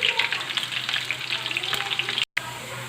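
Onions sizzle and crackle steadily in hot oil in a frying pan, with brief stirring sounds and a short cut to silence near the end.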